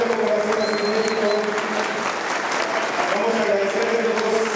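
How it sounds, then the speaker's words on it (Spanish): Concert audience at a gala by a boys' choir in Neza gives a standing ovation, with steady, dense applause sustained throughout, loud and continuous, along with crowd noise. "Vamos a agradecerles a todos, aplaudirles de pie"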